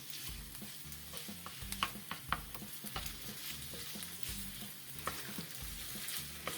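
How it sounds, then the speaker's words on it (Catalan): Sausages sizzle and fry in a pan while being stirred. The crackle is steady and close, with a few louder scrapes and pops. Low rhythmic thumps and music-like tones sit underneath. "Afegim les salsitxes i també les sofregim"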